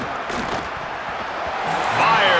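A stadium crowd in the College Football 27 video game roars in a steady wash of cheering that swells louder near the end, with a commentator talking over it.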